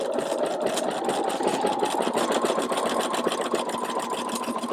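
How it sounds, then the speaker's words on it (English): Sewing machine satin stitching tulip shapes through fabric, with the stitches set close together: a steady, fast mechanical whirring and needle clatter runs continuously and evenly at close range, with no voices. "I'm just allowing the sewing machine to pull the fabric through"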